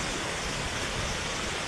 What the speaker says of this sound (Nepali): यति ठुलो खोला भयो हेर्नु सक्नुहुन्छ।